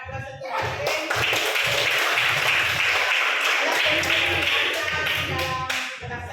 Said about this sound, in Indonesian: Mari kita berikan aplaus untuk Ririn.